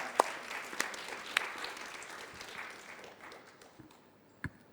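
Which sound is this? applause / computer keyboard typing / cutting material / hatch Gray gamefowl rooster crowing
applause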